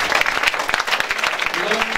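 A church congregation claps and cheers at a sermon, the applause dense and sustained across the whole moment with voices mixed into the crowd noise.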